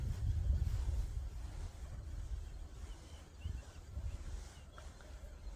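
Low, steady wind rumble buffets the microphone outdoors while fishing near reeds, with faint water movement beneath and no clear speech.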